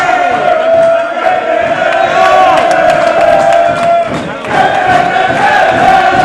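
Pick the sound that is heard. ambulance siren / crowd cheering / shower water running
crowd cheering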